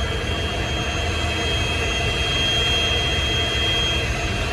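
Boeing 727 jet engines run in a steady, loud whine over a broad rumbling roar, continuous and even throughout, with no voices.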